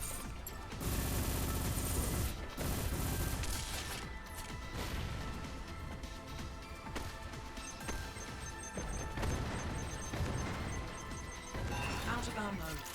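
Rapid gunfire and explosive shots from a video game battle against a Cyclops on an iceberg, loud and dense throughout, with crashing impacts and brief pauses, and a voice speaking at moments.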